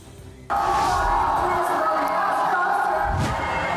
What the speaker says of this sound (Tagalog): Nakabibinging hiyawan, ngiting puno ng paghanga at sayang walang paglagyan.